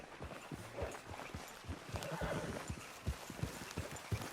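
Horses trot along in Red Dead Redemption 2, their hooves clip-clopping in a quick uneven rhythm at moderate distance, with an occasional whinny and faint background ambience.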